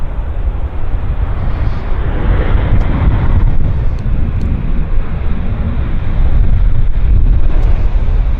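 A Delta airliner lands and rolls out at Vancouver Airport, giving a loud, steady roar of engine and rolling noise with wind buffeting that holds for several seconds, with no voices.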